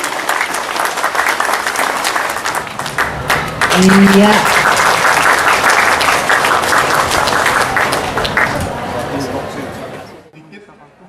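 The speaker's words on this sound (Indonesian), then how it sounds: "kita berikan tepuk tangan yang meriah." Loud, lively applause from an audience at a school MOU signing ceremony in Banjarmasin, with crowd chatter and a brief voice mixed in, tapering off at the end.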